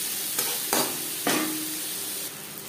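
Chopped onions and tomatoes fry in oil for a katla fish curry, a steady soft sizzle punctuated by three or four sharp bursts, likely ingredients dropping in or a spoon stirring the pan.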